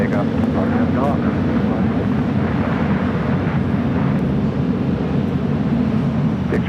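An airliner taking off from runway 25 right at LAX: a steady, loud, broad engine roar throughout, with radio chatter from air traffic control over it.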